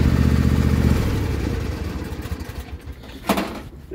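A John Deere S160 lawn tractor engine is switched off, its loud running rumble cutting out after about a second and fading into brief clattering as it winds down, with a short knock near the end.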